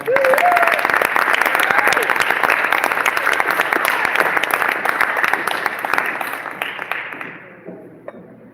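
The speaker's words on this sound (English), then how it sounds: "So put your big round of applause." Audience applause fills a hall at a concert at the Tacoma Armory, a loud, dense crowd clapping that holds steady before thinning and fading out near the end.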